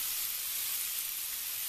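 Ground beef sizzles steadily in a hot pan while being broken apart with a spatula for a veggie-loaded Mexican lasagna, a constant close, bright frying hiss with no voices.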